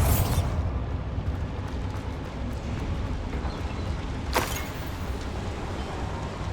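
A Bombarda blasting spell explodes in Hogwarts Legacy inside a small mine, a loud broad rumbling blast at the start with a sustained roar behind it and a sharp crack partway through.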